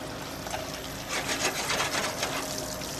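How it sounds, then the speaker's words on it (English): Langoustines dropped into a hot pot in a Puglia kitchen, frying with a continuous bright crackling sizzle that swells and stays busy throughout, with no talk. "we chuck our langoustines in."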